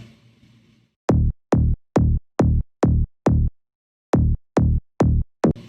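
Offbeat synth bass from the Nexus plugin in a Melbourne bounce track, a run of short, punchy notes in an even pulse with a brief gap partway through, following a faint start.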